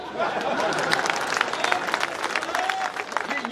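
Audience applause at a Hindi poetry recital, a dense, continuous clatter of many hands clapping at close range, mixed with crowd chatter and a few voices throughout.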